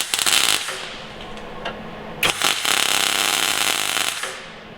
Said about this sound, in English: Sounds like welding.